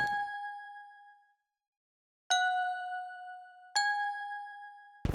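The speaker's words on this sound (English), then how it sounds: "So first things first, we're going to add some new bells." Bright synthesized bell preset from FL Studio, struck in three separate ringing hits with long shimmering decays and a silent gap after the first, followed by a sudden loud burst at the very end.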